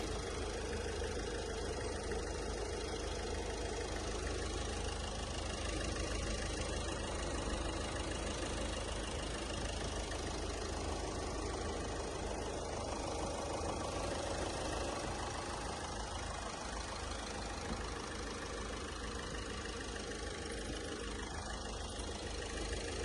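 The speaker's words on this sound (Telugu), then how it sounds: "ఒకసారి బ్యానెట్ ఓపెన్ చేసి మీకు ఇంజన్ వాయిస్ కూడా నాయిస్ కూడా వినిపించడం జరుగుతుందండి" Ford EcoSport engine idling with the bonnet open, a steady, quiet, even hum with a faint mechanical knock running unchanged throughout, no voices.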